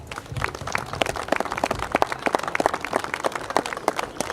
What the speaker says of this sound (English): For that, we give you a round of applause.